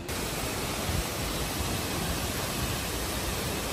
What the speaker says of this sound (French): On arrive à la seconde cascade.